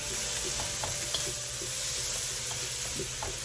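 Vegetables browning with seasoning in a wok give a steady close sizzle, with the light scrape and clink of stirring repeating through it.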